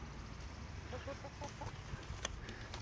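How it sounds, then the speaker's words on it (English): Soft, scattered clucks from three Rhode Island Red chickens over a low steady background rumble, fairly faint with short pitched notes in a loose cluster. "here we got 3 chickens, Rhode Island Reds"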